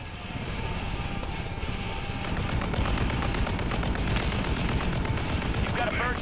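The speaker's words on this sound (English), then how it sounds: "the attack helicopter's getting him now" An attack helicopter fires its guns in the Modern Warfare 3 video game's Plunder mode, producing loud, dense, rapid bursts of gunfire that roll on continuously.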